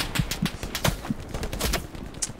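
Gunfire in the World War II shooter game Hell Let Loose: a scattered series of sharp shots at irregular intervals, some close and loud, others more distant, with no talk over them.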